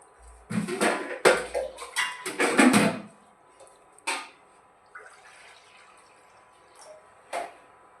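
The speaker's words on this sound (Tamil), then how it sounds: "இதில் கொஞ்சம் தேவையான அளவு தண்ணி ஊற்றி அது கொதிக்கட்டும்" Water splashes and pours into a metal pan in several short gushes, followed by a few lighter clinks and trickles amid quiet.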